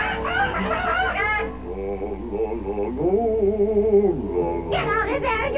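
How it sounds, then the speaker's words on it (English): A cartoon hen clucks in Kimba the White Lion, a series of choppy, tonal squawks and warbling clucks over a soundtrack, loud and close, with a brief crowing-like rise in the middle. "What are you crying about, Mrs. Chicken?"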